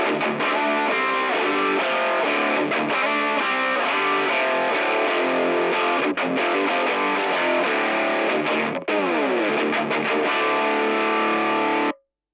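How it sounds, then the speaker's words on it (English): A boxy, mid-range electric guitar with a narrow, telephone-like lo-fi tone plays distorted chords and riffs continuously and loudly for about twelve seconds before stopping abruptly, with no talking. "it gives you kind of this guitar tone almost as if you were hearing it through a telephone or something like that."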